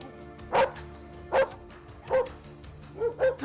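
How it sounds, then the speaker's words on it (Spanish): Dogs bark in short, separated bursts, about five or six barks spaced unevenly, fairly close and moderately loud. "Acá están todos los perros."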